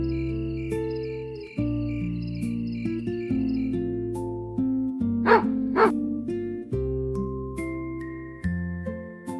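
Two quick dog barks from a farm in a bedtime story, standing out over soft, steady lullaby music with sustained tones.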